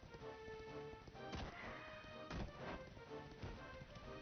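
A horse gallops in Dragon Quest XI, with faint hoof thuds landing in an uneven rhythm over steady game music.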